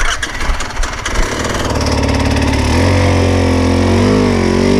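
A motorcycle engine is started with the electric start button: a brief whirring crank, then the engine catches and settles into a loud, steady idle close by.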